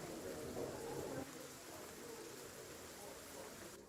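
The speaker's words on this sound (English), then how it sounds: "Rain outside, put the tavern noises inside." Steady rain hiss plays as background ambience for a tabletop game session, a soft wash of rainfall with a short louder stretch at the start and people talking faintly underneath.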